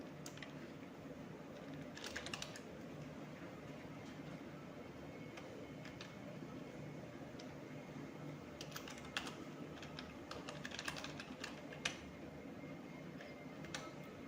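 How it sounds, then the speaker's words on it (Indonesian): Computer keyboard typing with repeated key presses, including the Tab key, while filling in a mail merge address list; steady, close clicking throughout with no voices. "Tab untuk klik kepada tombol tab pada keyboard untuk berpindah ke list baru."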